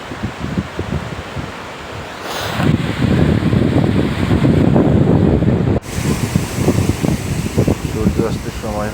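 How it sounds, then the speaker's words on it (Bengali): Surf washes up on the beach during a long coastal hike from Teknaf to Cox's Bazar, a broad rushing roar that swells midway, with wind buffeting the microphone and a voice speaking over it. "বড় বড় ঢেউ এসে আপনার পা ভিজিয়ে দেবে।"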